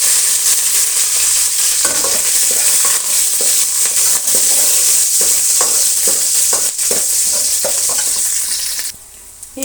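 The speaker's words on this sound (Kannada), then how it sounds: "ಸ್ವಲ್ಪ ಕರಿಬೇವಿನ ಸೊಪ್ಪನ್ನು ಸೇರಿಸ್ತಾ ಇದ್ದೀನಿ" Chopped onions and curry leaves fry in a hot pan with a loud, steady sizzle, broken by repeated scraping stir strokes throughout, before the noise suddenly drops away near the end.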